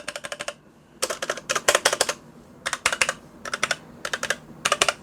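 Rapid bursts of clicky mechanical keyboard typing on a Marvo Scorpion CM420-UK gaming keyboard, close and crisp, with short pauses between runs of keystrokes and no speech.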